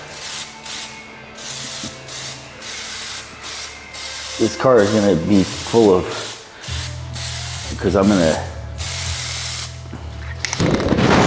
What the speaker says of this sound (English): what I might do is spray that edge